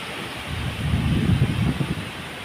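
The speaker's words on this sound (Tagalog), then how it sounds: "Sugang hangin mga idol." Strong typhoon wind with little rain roars and gusts in a low, rumbling rush, swelling in the middle before easing, with no voices.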